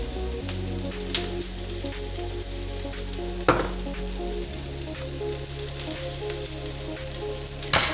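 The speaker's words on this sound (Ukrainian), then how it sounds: "я додаю на пательню порізані помідори, сіль, перець і сушений часник" Chopped tomatoes, salt, pepper and dried garlic frying in a pan with softened zucchini give a steady close sizzle, broken by a few sharp clinks and stirring noises.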